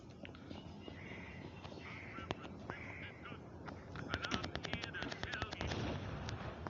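Rapid bursts of gunfire in a police chase video game set in a Vegas-style city, crackling in quick irregular volleys over a busy game soundscape, growing denser and louder toward the end.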